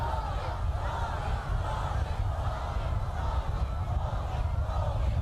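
A dense crowd packed into the square outside the Cultural Hall roars and cheers in a steady, continuous wash of voices, with no single sound rising above the rest.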